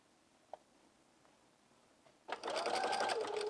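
A sewing machine starts up after a few faint clicks and runs steadily and close, stitching a seam on a jumpsuit with a continuous whirring hum that slows slightly toward the end.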